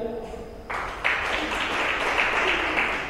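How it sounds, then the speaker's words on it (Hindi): A short stretch of voice gives way to a crowd breaking into applause, which swells and holds as a full, even roar of clapping for the rest of the moment. "इनके लिए भी ताली बजा दीजिए।"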